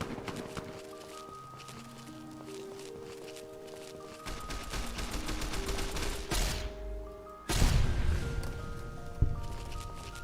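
Rapid bursts of gunfire in the Fallout video game, with sharp repeated shots rising over tonal music and ambient game noise, growing louder and denser toward the end.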